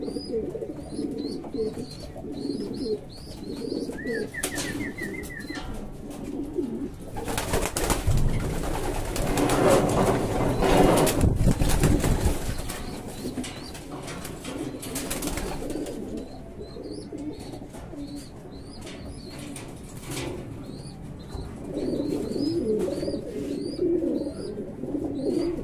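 Racing pigeons arriving at their loft coo softly amid outdoor ambience, with a burst of flapping wings and rustling in the middle as birds land nearby.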